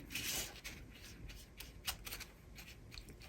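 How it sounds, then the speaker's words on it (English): An anti-static brush sweeps gently over white cardstock paper in a series of soft, close, dry brushing strokes with no voices. "now we want to use our anti-static brush to remove any oils and moisture and static cling"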